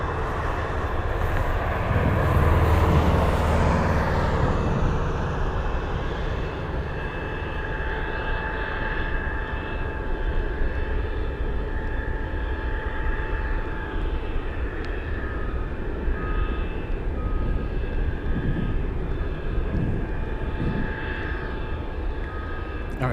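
A cargo aircraft lands on runway 15 at Anchorage airport in gusty winds, its jet roar steady and loud, swelling most in the first seconds, while people talk over the engine noise throughout.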